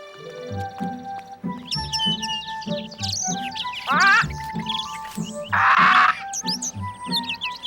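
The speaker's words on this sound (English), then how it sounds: "Oh, Papa, don't you just love the birds?" Cartoon birds chirp and tweet in quick bright bursts over a light plucked musical backing, with a couple of louder, raspier squawks partway through and no speech.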